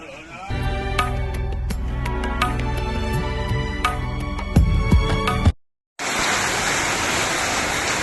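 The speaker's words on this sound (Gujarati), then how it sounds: "આ તમે જોઈ રહ્યા છો ધોધમાર સામેલાધાર વરસાદ વચ્ચે" Torrential monsoon rain pours down during a cattle rescue in Gujarat. After a stretch of music and a brief silence, a dense, loud, even hiss of heavy rain is heard on its own for the last couple of seconds.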